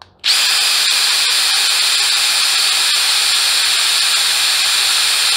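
A Dewalt Atomic impact driver spins freely in second gear, a loud, sustained high-pitched whir that starts abruptly and holds steady at close range, with no talk over it.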